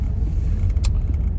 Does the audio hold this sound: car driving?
yes